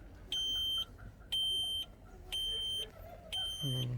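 Dashboard buzzer alarm in an Iveco Astra truck sounding four evenly spaced electronic beeps of about half a second each, loud and close over a low engine rumble.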